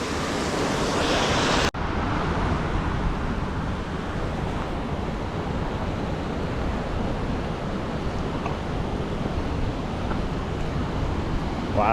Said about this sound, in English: Wow, look at these falls.